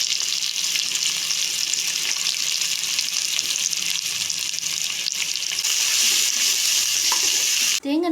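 Spices, onion and garlic frying in ghee for a Kerala-style coconut rice, a loud continuous hissing sizzle close up that grows stronger near the end, with a brief voice at the very close.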